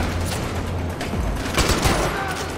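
Rapid bursts of gunfire in Far Cry 4, a dense rattling fusillade with booming low thuds, loud and continuous across the short stretch.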